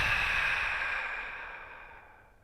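A single long, deep exhale during a meditation and yoga session, close and breathy, fading gradually over a couple of seconds.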